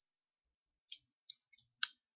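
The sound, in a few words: pressing the T key on a computer keyboard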